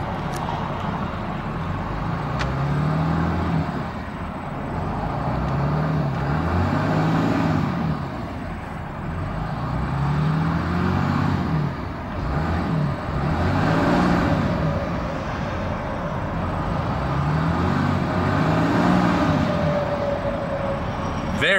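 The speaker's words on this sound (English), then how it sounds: "Very smooth sounding engine." A 2014 Ram 3500 dually Tradesman with a Cummins diesel idles steadily, a smooth low rumble with gentle slow swells in level, heard from inside the cab with no talking.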